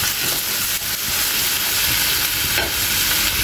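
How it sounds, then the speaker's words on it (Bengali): A cup of chopped onions fries steadily in a pan, a dense, loud, continuous sizzle and hiss with faint stirring, no voices. "এখন আমি বেশ কিছুক্ষণ পেঁয়াজটা ভেজে নেব।"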